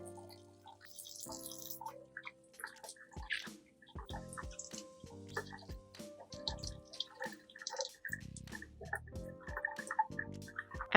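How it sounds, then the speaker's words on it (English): Cucumbers get a rinse in clean water, giving sporadic drips, splashes and light handling noises against soft background music, with no one speaking. "and then rinse it with clean water again."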